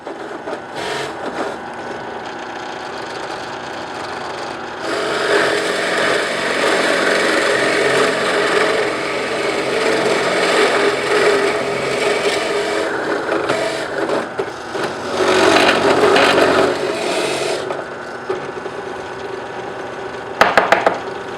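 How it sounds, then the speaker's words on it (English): A drill press bores into plywood, its steady motor hum and grinding cut running for about twenty seconds with a few louder passes and a brief clatter near the end. "I use the depth guide on the drill press to leave 2 layers of plywood at the bottom"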